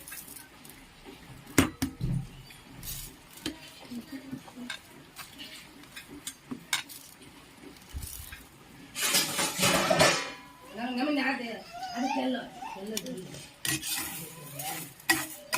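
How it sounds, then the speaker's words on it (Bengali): Two kinds of rice and lentils being lightly fried and stirred in a kadai: scattered clicks, clinks and scrapes, a louder rustling burst midway, and faint voice-like sounds in the background. "একটু হালকা করে ভেজে নেবো চাল আর ডালটা।"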